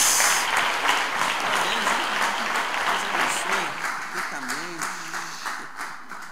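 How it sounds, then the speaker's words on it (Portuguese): A church congregation applauds during a worship service, a thick wash of clapping from many hands that gradually thins and fades, with voices speaking over it toward the end. "Vamos aplaudir Jesus"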